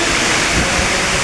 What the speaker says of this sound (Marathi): हे बघा मित्रांनो, बेकार पाऊस आलाय, पाऊस पडलाय